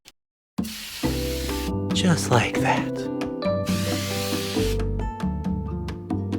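An aerosol can hisses in two bursts of spraying during silver leaf craft work, a loud, close airy rush, while a person talks over it.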